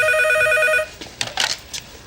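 A telephone rings with a loud, repeating electronic trill that stops abruptly after under a second, followed by faint rustling and handling noise.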